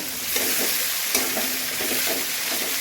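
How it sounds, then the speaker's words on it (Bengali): Chopped onions fry in a pan under a constant close sizzle, with a few light scraping stirs of a spatula at irregular intervals and no voices. "পেঁয়াজ কুচি দিয়ে দেবো দিয়ে ভালো করে একটু নাড়বো"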